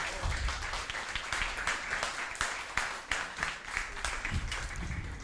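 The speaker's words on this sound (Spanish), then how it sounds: "También el aplauso." An audience at a spoken-word event applauds in a sustained, fairly even burst of clapping from many hands, moderately loud and close, with a few sharper individual claps standing out.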